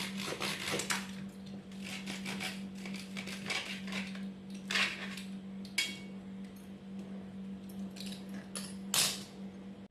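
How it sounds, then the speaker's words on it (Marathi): A pizza cutter rolls through a sabudana fasting cheese pizza, with intermittent scraping, rolling and clinks against the plate over a low steady hum. "कटरच्या साहाय्याने उपवास पिझ्झा कटिंग करून घेतलेला आहे"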